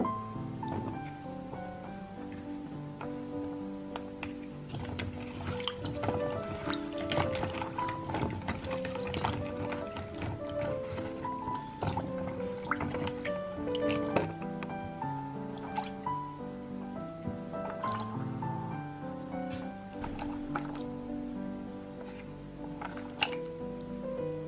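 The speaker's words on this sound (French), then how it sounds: "je vais laver la chair de coco à l'eau du robinet" Tap water runs and splashes steadily while coconut flesh is rinsed by hand, with irregular drips, squishes and handling noises throughout, no speech.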